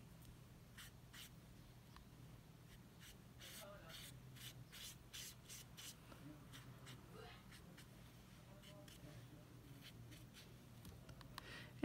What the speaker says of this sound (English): I'm going to take my little paintbrush and I'm going to draw some stems coming from